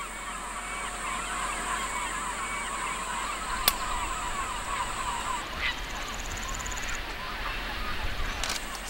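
Migratory geese honking on an uninhabited island in the demilitarized zone at the Han River estuary, a dense wash of calls and rustling over steady background noise, with one sharp click partway through.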